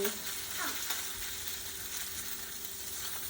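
A salmon fillet pan-searing in a frying pan, a soft, steady sizzle and crackle with a faint utensil sound near the start.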